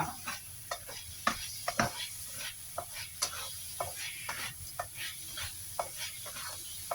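Pork filling with crushed roasted peanuts being stir-fried in a pan, with a soft sizzle under repeated scraping and stirring strokes at a steady, unhurried pace, close by and with no talking.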